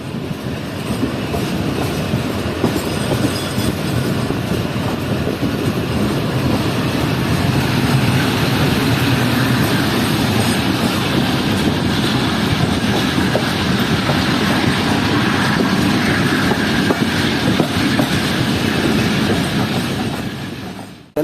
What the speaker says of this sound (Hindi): चलें अब आप लोग ट्रेन की लाहौर में एंट्री एंजॉय करें।